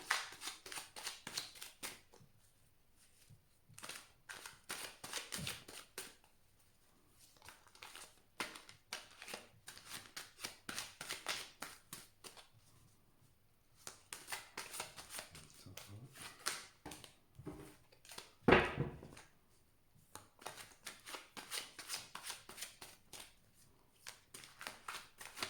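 Tarot cards are shuffled for a reading in repeated soft, close riffling bursts separated by short quiet gaps, with one louder knock near the end.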